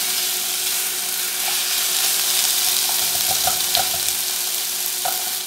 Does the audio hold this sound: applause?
no